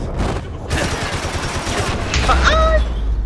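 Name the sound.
gunfire from a gun in the video game Max Payne 3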